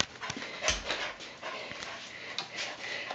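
A dog pants lightly indoors in quick, soft breathy bursts with a few sniffs and shuffles, close by and fairly quiet.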